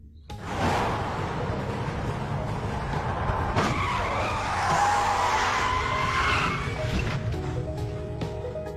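A car in a film skids hard to a stop, with a loud, sustained tire squeal and roaring engine that build for several seconds, then fade into rumble and clatter.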